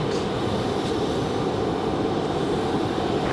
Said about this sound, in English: Air Lingus is coming around the corner. They are going to go to the D gate right here